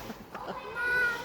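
A person imitating a cat's meow inside an aviation museum, a short, nasal, close-up vocal mew that rises and then holds a thin drawn-out tone before cutting off.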